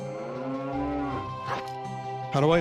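A cow moos in Zelda: The Missing Link, a long, loud, close harmonic low call with a couple of short breaks and a rising final bellow, heard alone.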